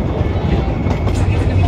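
A steam train on the Taxinge–Mariefred heritage line rolls along the rails with a steady, close rumble and rattle of wagons, continuous throughout, while a voice is heard over it.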